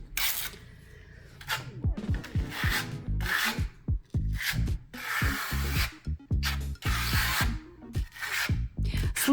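Grainy decorative plaster is rubbed and smoothed across a wall with a trowel, giving a close, rasping scrape in repeated strokes with brief pauses and clicking tool contacts, no talk.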